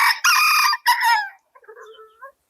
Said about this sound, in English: The rooster has something to say.